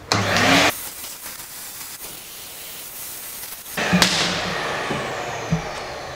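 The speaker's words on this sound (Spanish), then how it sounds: "Podemos ir aspirando los otros orificios y vamos limpiando." A vacuum cleaner runs loudly while sucking debris out of the injector holes of a Citroen 1.6 HDi engine, cutting off, then resuming with a steady whoosh and a few knocks near the microphone.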